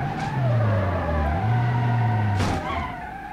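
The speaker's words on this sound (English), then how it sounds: "that's an average teenage car accident" Rally-spec Cherrier FCV crashing in BeamNG.drive: a loud, steady engine drone with tire scrub gives way to a sharp, bright impact burst around two and a half seconds in, then the motor keeps running.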